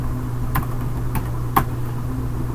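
Typing on a computer keyboard, with three sharp, well-spaced key clicks over a steady low hum, no voices.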